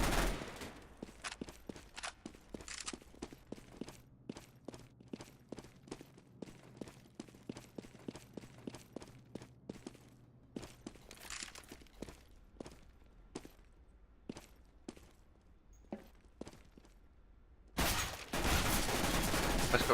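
Gunfire in Counter-Strike: Global Offensive rings out as a long run of sharp, evenly spaced single shots, fairly loud, ending in a dense burst of noise, with no talk over it.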